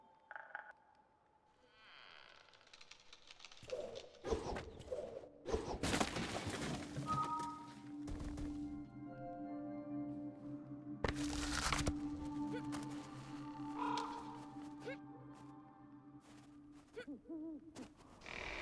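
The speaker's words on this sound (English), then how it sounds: "This is the owl I kept hearing earlier." An owl hoots in the video game Never Alone, several soft calls heard among game clatter, thumps and ambient effects, mid-distance and fairly quiet.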